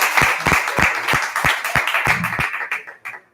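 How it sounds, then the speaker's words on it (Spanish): Audience applause at a Spanish book presentation of a poetry collection: a loud burst of clapping with distinct sharp claps, thinning out and fading toward the end. "Un aplausito para Gemma también."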